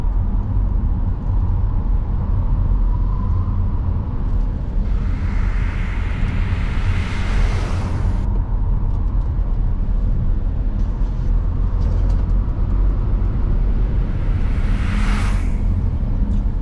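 Ford Explorer EV driving along a winding country road, with a steady low road and tyre rumble throughout and a couple of brief rushing swells as it takes the bends.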